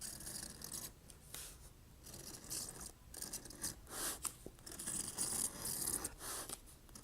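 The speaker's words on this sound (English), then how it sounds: "I will be scratching the border in here at about 1/8 of an inch in with the CS Osborne scratch compass." A CS Osborne scratch compass cuts a border groove into leather as a faint, rhythmic rasping scrape, with repeated strokes and small clicks close up in a quiet room.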